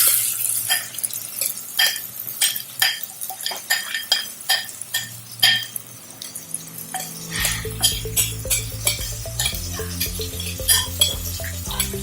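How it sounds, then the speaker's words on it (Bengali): Rice is added to a pot while cooking Kashmiri pulao, giving a run of clattering, pattering grains and scraping utensil clicks, followed by a steady sizzling hum near the end, no talking. "এবারে আমি চালটা দিয়ে দিচ্ছি।"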